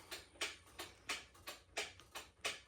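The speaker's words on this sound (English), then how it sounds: "That clock is so noisy, but I like it still." A noisy clock ticks close by in a quiet room, about eight crisp, evenly spaced ticks with a faint alternating tick-tock rhythm.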